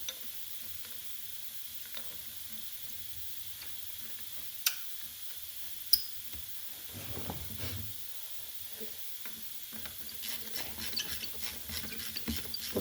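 A ratchet turning a 10mm socket on a 3/8 bolt while refitting the starter on an F600 truck; a faint quiet stretch with two sharp ticks, then a brief run of soft rapid clicks near the end.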